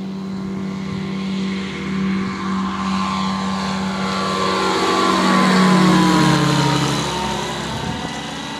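Ultralight aircraft engine on an airstrip at Cambaie, running steadily and revving up and down at middle distance, with a faint rise in pitch toward the end.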